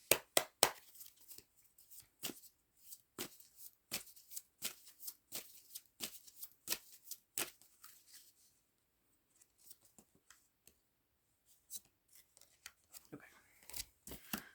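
Tarot cards being shuffled by hand in crisp, rapid riffles and snaps, a busy run of close card flicks, then a brief lull before a few more shuffles at the end.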